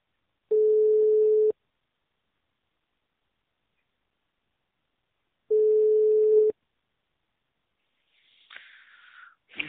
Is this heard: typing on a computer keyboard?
no